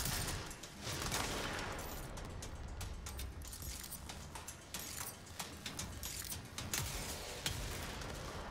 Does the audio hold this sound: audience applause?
no